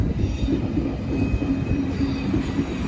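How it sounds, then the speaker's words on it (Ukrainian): An electric commuter train passes near Rapperswil-Jona, Switzerland, on the Lake Zurich shore, giving a steady, loud rumble with a faint high wheel squeal running throughout. "Ходять електрички."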